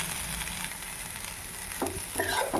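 Boiled raw papaya sizzles in a hot pan for a papaya fry, a steady close hiss with a couple of spatula scrapes as it is mixed.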